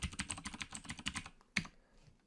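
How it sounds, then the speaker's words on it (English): Fast keystrokes on a computer keyboard, close and clear, rattle for about a second and a half, then one last isolated tap before quiet. "I can type in administrator"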